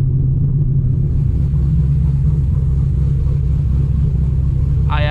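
Cammed C6 Corvette V8 cruising at about 40 mph in a high gear, a steady, loud low rumble from inside the car that holds continuously without revs rising, with a brief faint chirp right at the end.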